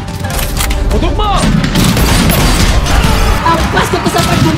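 Loud, chaotic gunfire in an animated battle scene of the 1896 Philippine Revolution at Imus, with booming blasts and rapid volleys, close and harsh, while people shout over the shooting.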